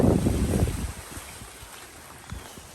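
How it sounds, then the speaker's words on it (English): Wind from approaching Hurricane Milton buffets the microphone in a loud rumbling burst for the first second, then settles into a softer, steady gusty noise. "There's some wind."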